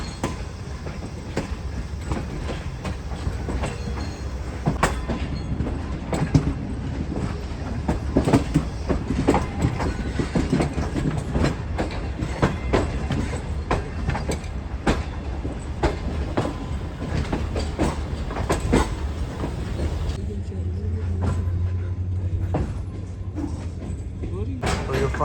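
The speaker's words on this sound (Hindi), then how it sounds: "यस, प्लेटफॉर्म नंबर 4 पर ही जा रही है ट्रेन।" A passenger train rolls over the tracks toward a platform at a station, with continuous rumbling and repeated clickety-clack from the wheels passing over rail joints, close and loud throughout.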